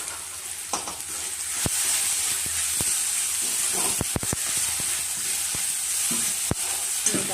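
Turmeric and ground spices fry in hot oil for sambar, giving a steady sizzle with sharp crackles and clinks of a stirring spoon scattered throughout, close and continuous.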